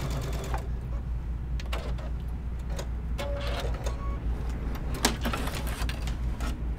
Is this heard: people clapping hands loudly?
no